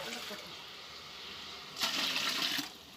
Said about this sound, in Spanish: Y le voy a poner esta agua